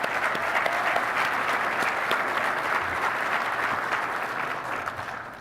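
A dense, steady round of applause for the finalists at a youth soccer coach-of-the-year awards ceremony, moderately distant and fading slightly toward the end.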